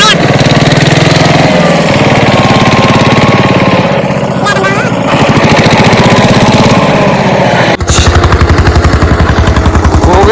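A tractor engine roaring at high load while pulling out another stuck tractor, loud, close and continuous with a throbbing, rattling drone and a brief dip and surge near the end; voices shout faintly under it.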